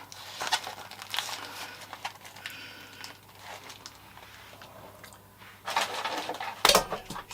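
A parcel of craft supplies being unwrapped indoors gives off quiet crinkling and rustling of packaging, with soft handling clicks and a louder crackling burst near the end, heard alone without talk.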